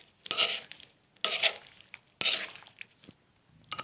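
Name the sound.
stirring fried jengkol with spices and hot oil in a stone mortar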